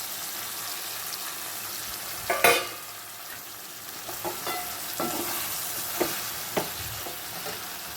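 Bitter gourd curry with masala is stirred in a pan, with a steady low sizzle broken by a sharp scrape and several lighter clinks of the spoon against the pan.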